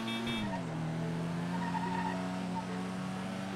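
A car in the video game GTA V Online revs and skids, a steady droning engine tone dipping in pitch with tire squeal over continuous loud road noise.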